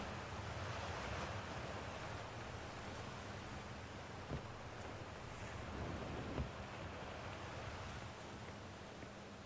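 Steady rushing waterfall in the Outer Wilds video game, a constant even wash of falling water heard from nearby, with a couple of faint brief knocks and no voices.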